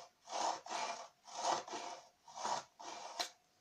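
A Fiskars K40 knife is drawn through a pull-through sharpener with its plastic cover open, making six rhythmic rasping scrapes in pairs, close and fairly quiet, with no talking.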